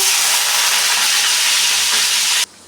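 Onions hit hot oil with cumin for paneer bhurji, setting off a loud, dense sizzle that holds steady for a couple of seconds before cutting off abruptly.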